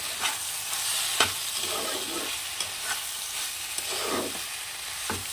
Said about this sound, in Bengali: সয়া সস সামান্য পরিমাণে দিয়ে দিলাম দিয়ে ভালো করে নেড়ে চেড়ে মিশিয়ে নেব